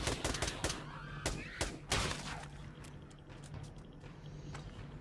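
Several quick, sharp shots from a 5.7 pistol in the VR shooter Pavlov crack out in the first two seconds, fairly quiet overall, then fade into low background noise.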